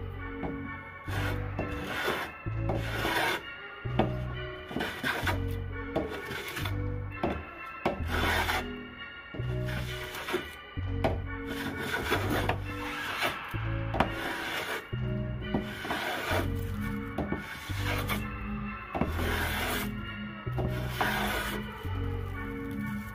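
A restored Stanley 110 block plane takes shavings off wood in a steady series of rasping strokes, roughly one per second, close and clear with no talking.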